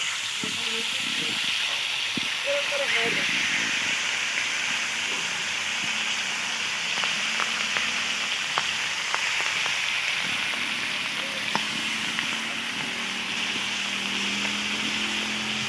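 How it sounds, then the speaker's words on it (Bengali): Steady, loud sizzling of parshe fish frying in hot oil in a wok, with a few faint clinks of utensils. "কড়াইতে আমি তেল দিয়ে দিচ্ছি পার্শে মাছগুলো ভালো করে আমি ভেজে নেবো"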